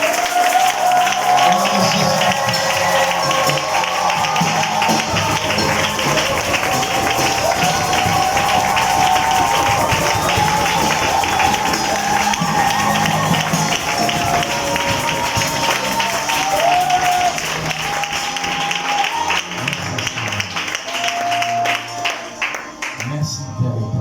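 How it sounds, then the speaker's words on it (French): A church seminar congregation applauds and cheers with shouts of joy, a steady wash of clapping and voices over continuous music, sustained for the whole stretch. "Il va monter ici avec vos acclamations en poussant des cris de joie pour notre Dieu."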